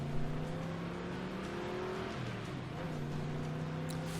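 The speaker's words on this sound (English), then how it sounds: "Why are you driving so fast?" A car driving fast in a TV episode, its engine droning steadily with pitch shifts as it accelerates, heard from inside the vehicle, faint and continuous without talk.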